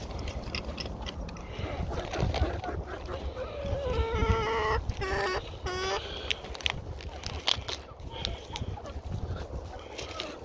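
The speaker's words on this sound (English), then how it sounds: "These are all roosters." Roosters being raised for meat, with several birds making short clucking and honking-like calls close by, scattered over a steady background hum.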